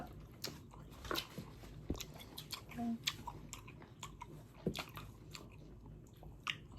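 Close biting and chewing of food, with crunchy bites and soft mouth sounds repeating irregularly over a low background murmur, without clear speech.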